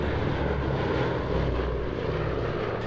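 Heavy droning of Boeing B-17 Flying Fortress bombers passing overhead, a loud, continuous low engine rumble with a deep propeller hum that holds steady, no voices present.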